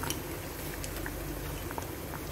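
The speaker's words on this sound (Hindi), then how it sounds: "अब हम इनको एक ऐसे देखेंगे और ये उबल चुके हैं अच्छे से" Parmal (pointed gourd) boiling in a pot on a gas stove, a dense continuous bubbling and popping, close and steady throughout with no talk.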